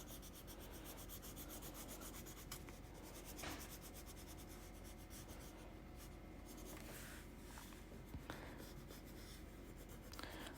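Crayon or pencil coloring on paper, rubbed side to side in steady, fast scratchy strokes, close and quiet, continuous with a few brief taps and no talking.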